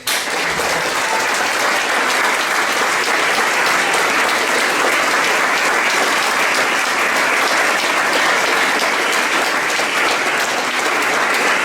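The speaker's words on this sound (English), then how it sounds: "So please, a round of applause." Sustained, dense applause from a live audience at an evening reading and music show about space and nature, loud and steady throughout with no voices over it.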